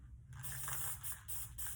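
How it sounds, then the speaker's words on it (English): Aerosol can of clear acrylic sealer sprayed outdoors over paper in several short hissing bursts, close and fairly faint, with small mechanical clicks of the nozzle between them. "spray a light layer, that's it, that's plenty, over your paper."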